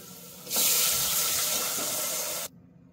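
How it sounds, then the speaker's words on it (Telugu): Water gushes steadily from a tap into a pot for about two seconds, measured for cooking broken rice and moong dal, starting and stopping abruptly, loud and close. "2 గ్లాసుల నూకకి 4 గ్లాసుల నీళ్లు పోసుకుంటున్నాను."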